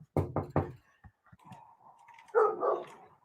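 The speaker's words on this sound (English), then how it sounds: "Come on, stop barking." A dog barks several times in a quick burst close by, followed by quieter yips and whining sounds in a home setting.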